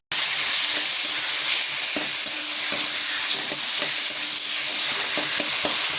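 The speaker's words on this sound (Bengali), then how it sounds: "একদম পুরো মিশিয়ে নিতে হবে এই টমেটোগুলির সঙ্গে বেগুনটা আর আলুটা" Tomatoes, brinjal and potato being stirred together in a hot pan, a loud, continuous sizzle broken by frequent soft scrapes and knocks of the spoon.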